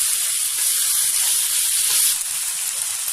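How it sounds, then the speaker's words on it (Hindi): Minced meat keema frying in a little oil, a dense bright sizzling hiss that is loud and close and continuous, with no voice over it. "ऑलमोस्ट कीमा फ्राई हो चुका है।"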